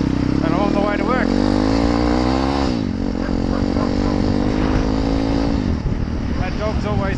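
A motorcycle engine on a ride to work drones loudly and steadily up close, its low rumble rising and falling with throttle, while someone talks over it throughout.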